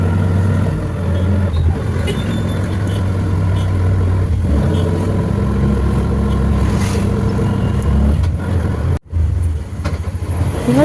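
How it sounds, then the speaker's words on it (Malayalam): An auto rickshaw drives along a town road from Bank Road toward Kainatti, its engine a steady, close, continuous drone with road rumble, briefly cutting out near the end before resuming. "അങ്ങനെ ഓട്ടോ ഇങ്ങനെ പോയിക്കൊണ്ടിരുന്നു."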